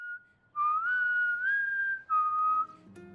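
A person whistles a simple melodic tune in two clear phrases with a short gap between them, close and alone, with faint background noise.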